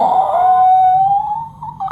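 A dog lets out a single long, steady howl that holds its pitch, loud and close, then trails off into a short wavering whine.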